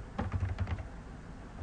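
Quick bursts of keystrokes on a computer keyboard while coding an HTML5 canvas game, a short patter of clicks that trails off into quiet, close and fairly soft with no talking.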